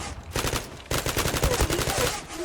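Rapid automatic gunshots from the online shooter Zula rattle in steady, close bursts with a brief pause, then resume with heavier low thuds mixed in.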